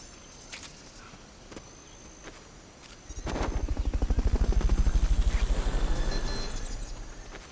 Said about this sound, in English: Subject confirmed onboard helicopter.